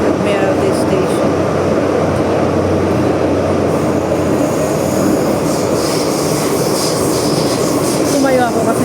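Hong Kong MTR subway train riding between stations near Admiralty, a loud steady rumble of wheels and car noise throughout, with faint squeals and brief voices in the background.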